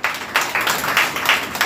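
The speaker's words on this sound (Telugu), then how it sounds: "కొట్టు చప్పట్లు." A church congregation claps in steady rhythm, about four or five sharp rounds of hand claps close by, loud and alone.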